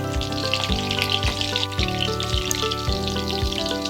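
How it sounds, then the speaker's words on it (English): Peppers fry in hot oil in a pan, giving a steady, close sizzle that runs the whole time over a tonal background with shifting steady notes. "Put oil in pan, make it hot and start fry pepper the first from all sides."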